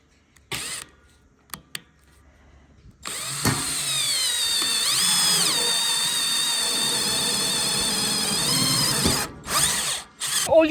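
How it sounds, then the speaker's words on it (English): A cordless power drill driving screws to fix anti-lift brackets onto a sliding gate: a few short trigger bursts, then a long, loud, close whine under load that rises and falls, ending in brief pulses. "This is what I use to drill the sweepies to the gates."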